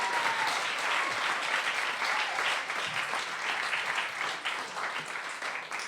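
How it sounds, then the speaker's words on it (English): Steady, dense applause from a theatre audience at a concert continues throughout, a full wash of clapping that fades slightly toward the end. "I think you need to give him another great big cheer as he comes out there."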